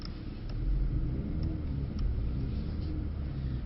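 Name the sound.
Mercedes C63 AMG drifting on track in all-wheel drive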